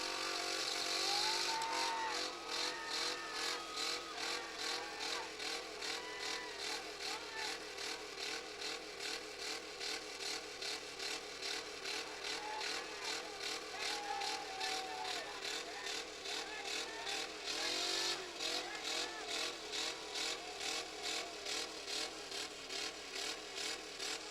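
Demolition derby cars at a county fair idle and rev continuously, a dense rough engine drone with rhythmic pulsing and occasional louder bursts, steady and fairly close throughout.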